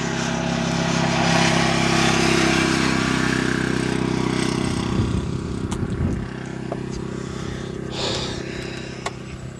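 Motorbike engines drone and rev on an icy mountain trail along the Continental Divide in the Rocky Mountains, a steady mid-distance roar that swells briefly, then fades under wind noise.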